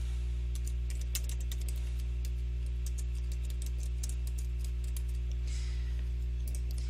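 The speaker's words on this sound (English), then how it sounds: "I'm also going to type in" Quick, irregular keystrokes tap on a computer keyboard while data is entered into an Excel spreadsheet, close and fairly faint over a steady low electrical hum, with no speech.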